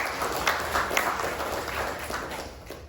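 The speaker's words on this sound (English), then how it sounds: "please give yourself a round of applause for this." Audience applause at a chamber of commerce general membership meeting in Guam, a steady wash of clapping from a crowd, moderately loud and even throughout with no talk over it.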